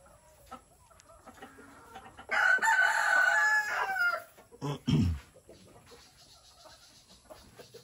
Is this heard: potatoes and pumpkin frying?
no